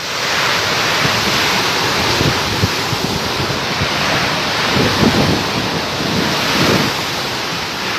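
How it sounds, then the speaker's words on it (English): Strong gusting wind during a thunderstorm in Croatia, a loud continuous roar of rushing air with swelling gusts and wind buffeting on the microphone throughout, with no voices. "The warning was issued for thunderstorms and strong gusts of wind."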